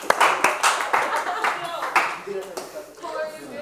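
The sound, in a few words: class clapping hands for the volunteers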